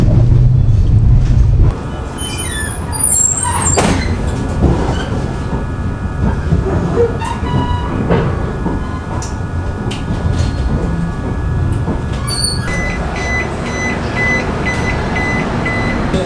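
Tejas Express train travelling to Lucknow, heard from inside a carriage as a loud, steady rumble with rhythmic clatter of wheels on track and faint intermittent tones.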